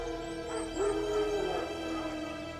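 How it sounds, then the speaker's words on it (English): Wild dogs barking and yelping in The Witcher 3, a few high yips and a whining bark heard at moderate distance over a steady ambient background. "Wolves? No, wild dogs."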